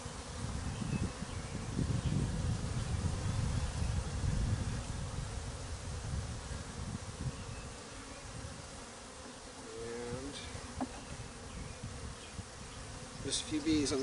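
Honey bees buzz in a dense, steady swarm around an open hive during an inspection, close and loud, strongest early on, with brief handling clicks near the end.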